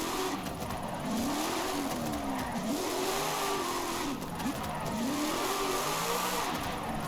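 A car's engine revs continuously and rises and falls in pitch while drifting in the racing game Forza Horizon 5, with a steady mid-pitched roar and faint tyre noise throughout and no talking.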